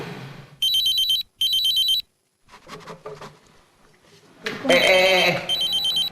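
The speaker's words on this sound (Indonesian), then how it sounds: "itu teleponnya bunyi terus" A telephone rings repeatedly with a loud electronic ringtone in sharp, regular bursts, pausing briefly with faint voices and room sounds between the rings.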